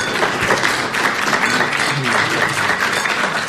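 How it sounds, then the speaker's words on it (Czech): Audience applause in a studio talk show about wine, following an on-stage toast: dense, steady clapping under a continuous wash of crowd noise, with a brief voice underneath. "diváky poprosíme o potlesk na náš přípitek"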